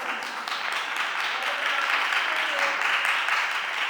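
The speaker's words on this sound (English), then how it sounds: "you can clap" Steady applause from an audience at a city council committee meeting, a dense wash of many hands clapping continuously at moderate level with faint voices mixed in.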